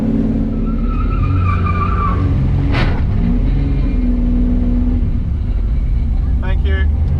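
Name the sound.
drag racing car with bias ply slicks accelerating down track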